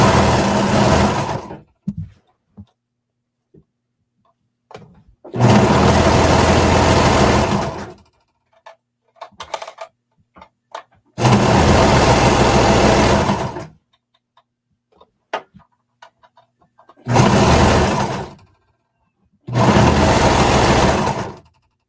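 A home sewing machine stitches around the raw edges of a jacket's sleeve and bodice in five separate loud bursts of rapid whirring, with quiet pauses and small handling clicks between them.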